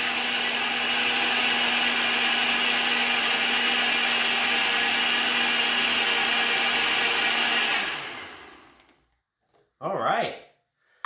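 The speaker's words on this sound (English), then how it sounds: "I don't know how long we're going to blend this for, but just a little bit longer there." A blender whirs loudly and steadily for about eight seconds while blending a shake, then winds down and stops, followed by a short, close spoken comment.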